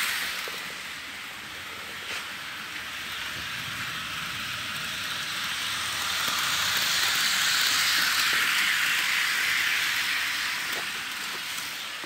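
A Wolfers model train, engine CP 1597, running on its track, a steady rushing hiss and whir that swells as it nears, peaks, then eases off, with faint clicks.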